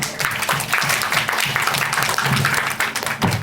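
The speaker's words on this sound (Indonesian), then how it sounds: "Applause dulu buat beliau" Applause from an audience at an Indonesian business gathering, a dense steady patter of many hands that holds for the whole stretch with brief voices mixed faintly underneath.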